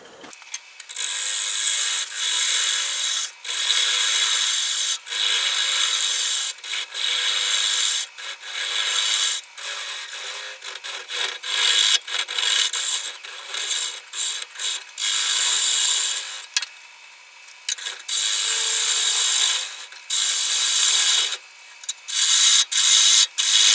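A wood lathe spins at 600 RPM, rough turning a walnut salad bowl blank, its bright scraping tool noise continuous and loud with short breaks as the cut is interrupted.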